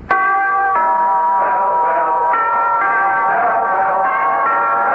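A radio-advert bell for Pall Mall cigarettes rings loud and resonant, with repeated clangs and a sustained ringing tone that carries through the whole stretch, no voices over it.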